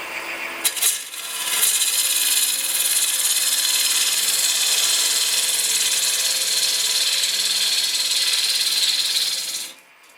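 A wood lathe turns an ash spigot down to about 55 millimetres, producing a loud, continuous, close scraping hiss of the cutting tool on spinning wood that holds steady for around eight seconds before fading out.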